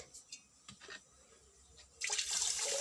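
Water poured over a small Gopal idol during a morning bath ritual in a Bengali home: a few soft drips, then a steady, close splashing pour that runs continuously through the second half.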